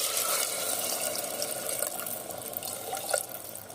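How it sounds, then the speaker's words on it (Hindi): Water runs steadily into rice in a cooking pot, a continuous close pour with a slight splashy texture and no voices. "इसमें पानी शामिल कर देंगे।"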